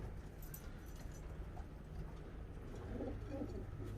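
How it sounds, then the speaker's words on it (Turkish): Pigeons coo in a loft, with soft, rounded calls repeating over a steady low rumble of background noise and no speech. "Şöyle ilk etapta kuşlarını biraz gösterelim."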